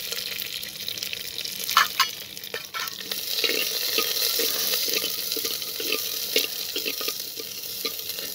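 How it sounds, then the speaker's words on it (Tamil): Steady sizzling of something frying in hot oil, with occasional stirring clinks and scrapes; no voices. "அடுத்து நறுக்கி வச்ச சிறிய வெங்காயம் சிறிதளவு"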